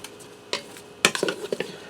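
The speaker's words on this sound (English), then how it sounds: "I'm going to give them a stir." Garlic parmesan potatoes are stirred in a Ninja Foodi pot, giving a few brief scraping and clinking utensil knocks against the vessel, close and fairly crisp, without talk.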